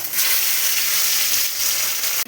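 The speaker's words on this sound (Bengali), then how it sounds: "এবার মাছগুলো আস্তে আস্তে ভেজে নেব" Pabda fish, rubbed with salt and turmeric, frying in oil in a wok: a loud, steady hiss of sizzling fills the whole stretch, ending with a brief low clunk.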